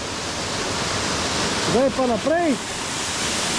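A 30-metre waterfall in the Belca valley of the Karawanks roars as a loud, steady broadband rush close by, with someone speaking briefly over it.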